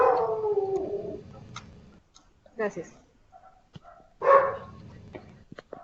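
A small dog howls in a drawn-out wail, then yips and barks in short bursts over a participant's open microphone during an online meeting, with a brief spoken word in between.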